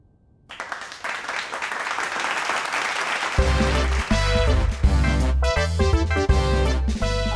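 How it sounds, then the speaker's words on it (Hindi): Clapping from an audience starts abruptly and holds as a dense patter, then music with a heavy beat enters about halfway and plays over the ongoing applause. "तालियों की आवाज है लगती कितनी मधुर।"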